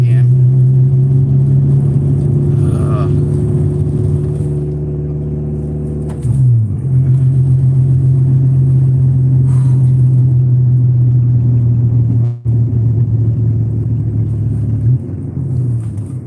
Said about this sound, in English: we're having transmission issues again